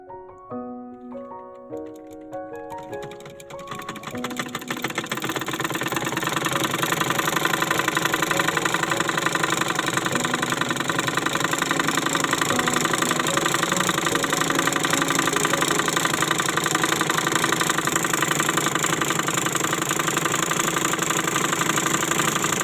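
A foot-pedalled treadle sewing machine winds thread onto its bobbin, starting with a few slow uneven clunks, then building to a loud, steady mechanical whirring drone that runs on without talk.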